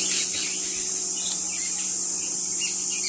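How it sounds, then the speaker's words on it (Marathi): Outdoor ambience with a constant high shrill chorus of insects or birds near a home garden, a steady continuous drone without speech. "हा हा पक्ष्यांचा आवाज बघा काय ते"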